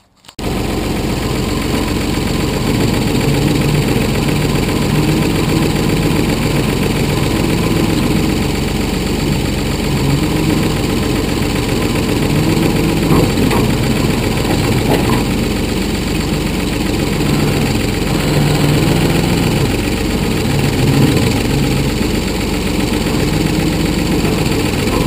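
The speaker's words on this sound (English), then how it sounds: "We're going to show you how you use your backhoe for gardening." A backhoe engine runs continuously and loudly while turning over garden dirt at a Tabor City home, a steady low diesel drone with mechanical vibration and slight load changes, with no talking.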